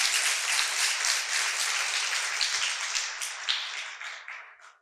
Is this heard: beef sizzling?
no